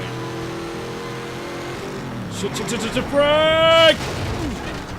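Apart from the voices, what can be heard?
racing car crash in video game Shift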